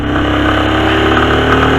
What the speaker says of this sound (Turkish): rüzgar sesini, motor sesini alıyor mu?